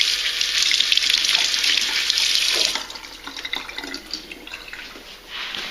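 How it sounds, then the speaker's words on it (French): Tap water runs steadily from a kitchen faucet while garlic is washed under it for a bolognese, a bright continuous splashing that thins into lighter, uneven trickles and drips partway through. "N'oubliez pas de bien laver ton ail."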